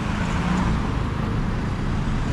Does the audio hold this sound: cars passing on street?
yes